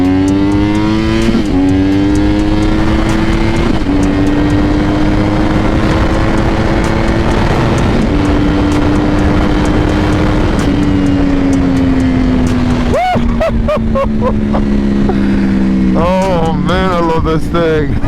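A 1000cc sport motorcycle accelerating hard at full throttle, its engine note climbing steadily through the gears with brief dips at each shift, loud and close, then a sharp rev spike near the end.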